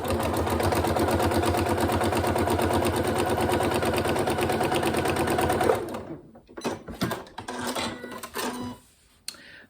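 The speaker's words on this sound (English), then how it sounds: "I'm going to sew right the way across this one." A sewing machine stitches across a zipped pencil case in a fast, steady mechanical whir for about six seconds, then stops, leaving a few scattered clicks and handling noises.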